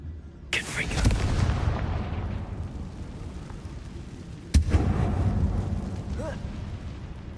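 Confringo fire spell exploding in a mine tomb in Hogwarts Legacy, two sharp blasts a few seconds apart, each bursting loudly and trailing into a rumbling, crackling decay.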